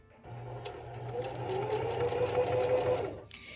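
A sewing machine stitching the corner of a cloth napkin runs for about three seconds with a steady rising whir and rapid needle ticking, close by, then stops.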